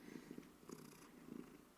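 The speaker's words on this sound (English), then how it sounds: "I wanted to share her with you guys and her purr, because she purrs all the time." A pet cat purrs softly and close, a rhythmic low rumbling pulse repeating several times over a quiet, faint background.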